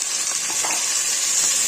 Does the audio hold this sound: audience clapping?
no